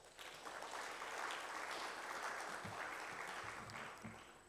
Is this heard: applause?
yes